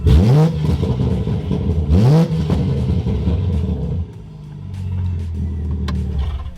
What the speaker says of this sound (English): So now let's get the real rev before and after.